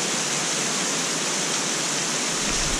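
The Salto Escondido waterfall pours into a pool below, a loud, steady broadband rush of falling water, close and unbroken with no other sounds.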